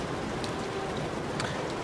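Heavy rain pours during a race in the video game F1 2016, a dense, constant hiss that fills the whole moment at an even level, with no talking.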